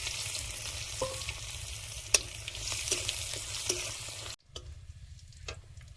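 Crushed garlic and black cumin frying in hot oil make a continuous, even sizzle with a few faint ticks and one sharp clink, breaking off for a moment before quieter frying returns.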